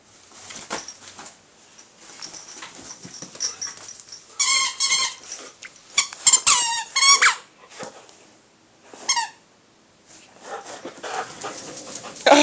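A husky dog squeaks a squeaker toy in bursts of sharp, high squeaks with pauses between, alongside panting and soft whimpers, close to the listener.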